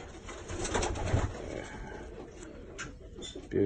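A show pigeon gives soft, low, throaty coos close by amid a busy hall hum and rustling, moderately loud with a few brief higher sounds near the end.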